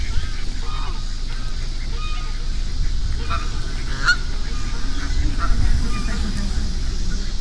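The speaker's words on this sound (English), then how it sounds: "damn, I got all these ducks around here." Ducks honk nearby in a continuous, busy flock chorus with overlapping calls, fairly loud and close, with a steady low rumble of background noise underneath.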